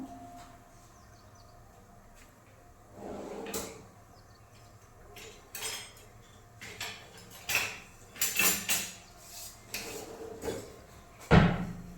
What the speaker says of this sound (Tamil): இந்த மாதிரி ஒரு குக்கர் வச்சுக்கோங்க